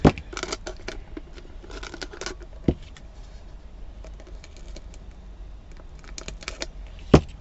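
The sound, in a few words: cutting with glue-covered scissors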